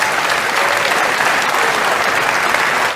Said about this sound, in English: That's literally an audience of people applauding their own demise